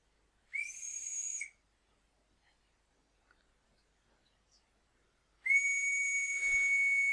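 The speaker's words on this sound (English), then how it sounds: "You guys are gonna hear a whistle." Two shrill, steady whistle blasts sound, the first about one second long and the second longer, separated by near silence, as a whistle is blown to call a dog.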